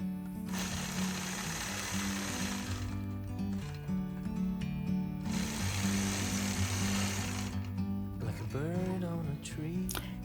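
A sewing machine stitches a quilt block along a curved point-to-point line, running steadily for most of the clip with a loud mechanical whir that pauses briefly around the middle, then changes pitch and slows near the end.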